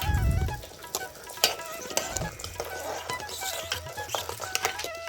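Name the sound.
rice boiling on a clay stove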